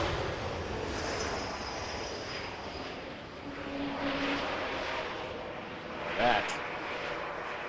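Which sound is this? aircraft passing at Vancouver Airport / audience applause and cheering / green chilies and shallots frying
aircraft passing at Vancouver Airport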